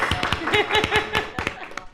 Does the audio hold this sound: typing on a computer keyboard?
no